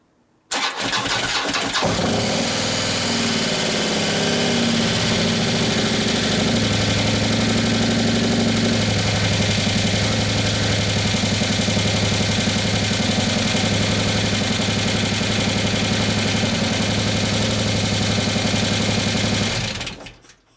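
Harley-Davidson Road Glide twin cam motorcycle engine starts and idles steadily for about twenty seconds, loud and close, with a fast dry ticking clatter from lifters running without oil.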